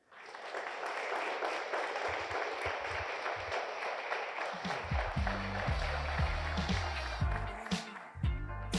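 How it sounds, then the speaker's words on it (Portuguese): Sustained applause from an audience welcoming a speaker onto the stage at a corporate IT breakfast talk, steady clapping throughout with low rumbling and some talk mixed in toward the end. "Recebam com uma salva de palmas, Helena Brochado."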